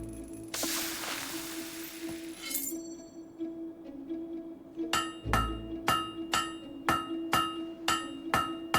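A hammer striking a blade at a forge in Fable 3: a steady rhythmic series of bright metallic clangs, about eight evenly spaced ringing strikes, preceded by a burst of hissing noise and faint clinks.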